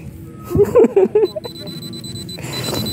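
A handheld metal detector passed over tin gives a quick run of four or five short, bright beeps, followed by a fainter steady electronic hum and low background noise.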